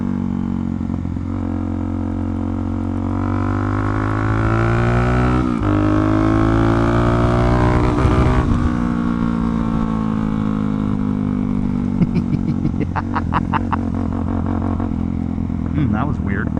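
A Suzuki DRZ400 dirt bike running steadily under throttle, a close, loud engine drone whose pitch climbs and falls with revs, with wind rush and a rider speaking over it.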